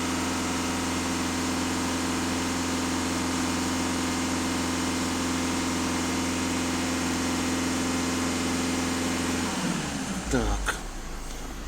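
A VW Touran 1.6 TDI diesel engine runs steadily for about ten seconds, then its pitch shifts as it is revved toward 2500 rpm near the end, a loud, close, continuous drone with no talk.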